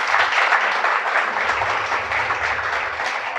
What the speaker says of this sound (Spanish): Dale un aplauso al Salvador,